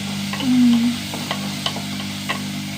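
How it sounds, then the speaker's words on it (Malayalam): Green chillies and small shallots sautéing in a pan, a close steady sizzle with a few brief stirring scrapes over a short stretch. "ഒരു നാല് പച്ചമുളകും നന്നായി വഴണ്ട് വരട്ടെ കേട്ടോ"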